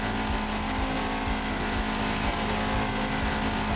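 Dunker board car engine in the mobile racing game Asphalt 9, a loud sustained engine drone with rhythmic revving pulses and a steady tonal hum, continuous throughout with no talk.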